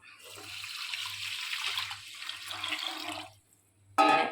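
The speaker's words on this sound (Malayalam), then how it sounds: "അപ്പം 4 ഗ്ലാസ് വെള്ളം ഞാനിവിടെ അളന്നെടുത്ത് വെച്ചിട്ടുണ്ട്. അപ്പോൾ വെള്ളം ഒഴിക്കാൻ പോവാം." Measured water pours into a pot of rice for beef biryani, a steady splashing gush lasting about three seconds, close and moderately loud, then a pause and a brief fresh splash.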